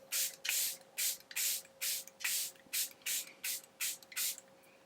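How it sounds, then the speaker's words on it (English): Airbrush Flawless setting spray misted over a made-up face in about eleven quick, separate bursts, each a short breathy hiss with a steady rhythm, close and fairly loud with no talking. "set the face with the Airbrush Flawless Setting Spray"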